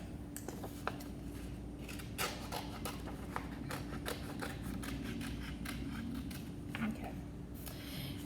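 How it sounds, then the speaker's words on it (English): Scissors snipping through folded construction paper, a run of close, crisp cuts in an irregular rhythm, with faint light rustling between them. "And then you're going to cut this little tail part off."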